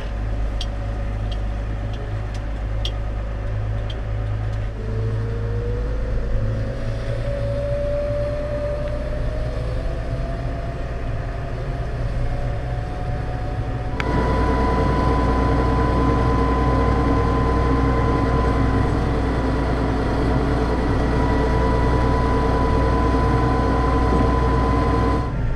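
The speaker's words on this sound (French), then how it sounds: "Là je vais rouler quelques minutes sur la route pour le faire chauffer et sécher l'ensemble." A Massey Ferguson tractor engine drones steadily as it drives along a road, a continuous low rumble with a whining tone that rises partway through and then holds at a higher pitch.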